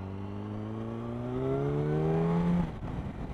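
A 2007 Yamaha YZF1000 R1 sport motorcycle engine revs upward in a smooth rising whine, building over a couple of seconds and then cutting off abruptly, heard fairly close with no talking.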